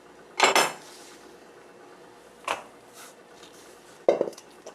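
A knife slicing Korean fish cake into thin strips on a board: three separate crisp cutting strokes, loud and close, with quiet pauses between them.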